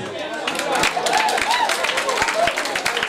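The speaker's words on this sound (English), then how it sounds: "Big round of applause" Applause from the audience at a boxing promotion fight night, steady clapping with some cheering that fills the room and carries on throughout, with a voice or two talking over it.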